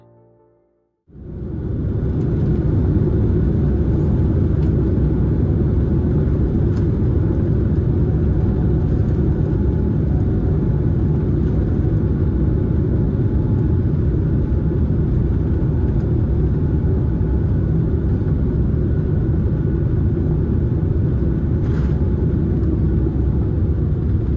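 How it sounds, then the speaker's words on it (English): A loud, steady roar of a Boeing airliner's jet engines during a winter takeoff, with deep rumble that holds constant throughout, starting abruptly after a brief quiet moment. "During a winter takeoff, this Boeing creates impressive wing condensation."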